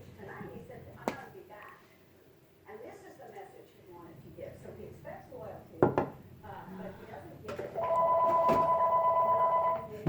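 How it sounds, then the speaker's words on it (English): A telephone rings in a steady electronic tone near the end, loud and sustained, following scattered clinks and clatter of dishes and fridge items while people talk in a kitchen. "We're getting a phone call."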